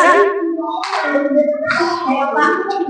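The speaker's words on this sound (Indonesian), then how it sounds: "Tepuk tangan." Students in a classroom lesson clap their hands together amid loud group chanting and voices, with the sound of the room continuing steadily for about three seconds.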